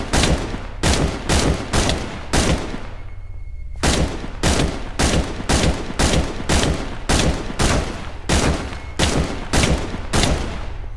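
Dense, relentless bursts of gunfire in a video game, repeated shots fired at Jeff the Killer in an abandoned cemetery, loud and close with barely a pause between volleys.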